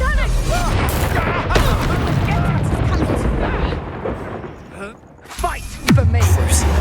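Spell blasts and booming explosions from the Confringo blasting curse in Hogwarts Legacy crash through a dense, continuous battle din, with a brief lull before a heavy low-end impact near the end; voices speak throughout.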